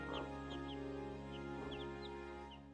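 Tiny Chinese Silkie chicks peep in short, high chirps scattered over a few seconds, faint and close against a steady low hum.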